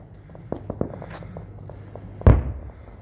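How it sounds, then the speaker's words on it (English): New Year's fireworks pop and crackle at a distance, a few sharp reports followed by one louder bang that rumbles out. "Look at those fireworks."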